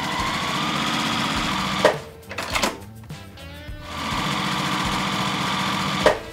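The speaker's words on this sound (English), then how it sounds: "Put them right sides together and sew all the way down." A sewing machine runs fast and steady stitching quilt block pieces together, a loud rhythmic mechanical hum that pauses briefly with a few clunks of handling fabric before resuming at full speed.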